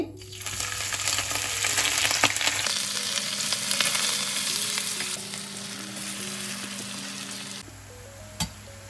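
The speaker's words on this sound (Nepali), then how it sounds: "अब म बिरयानीमा लेयर गरेर राख्नको लागि प्याजलाई फ्राई गर्दै छु" Three sliced onions fry steadily in hot oil for a layered jackfruit biryani, a dense, continuous close-up sizzle with occasional stirring scrapes running throughout.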